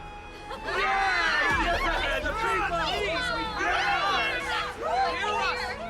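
A video game crowd clamors with overlapping excited voices and shouts, a dense babble of many people, fairly loud and continuous.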